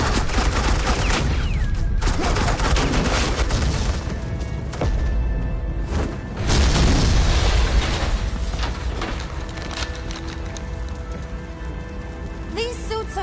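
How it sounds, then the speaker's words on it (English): Suppressing gunfire in the Batman: The Enemy Within video game, a dense continuous rattle of shots and impacts across the clip with a brief lull near the middle, loud and busy, with game dialogue mixed in. "Suppressing fire."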